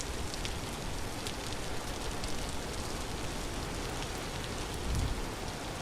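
Steady rain in the video game Vintage Story, a dense even hiss of drops pattering on surfaces that holds unbroken throughout, with one brief low thump near the end.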